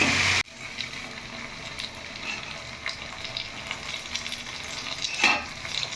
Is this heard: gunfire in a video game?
no